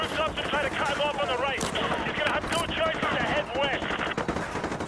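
Rapid bursts of automatic gunfire in a Call of Duty video game crackle continuously, mixed with overlapping game sounds and a voice speaking over them.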